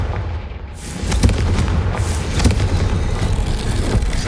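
Confringo fire spell blast in the Hogwarts Legacy video game, a loud booming burst with a rumbling low roar that carries on steadily for several seconds, with no voices.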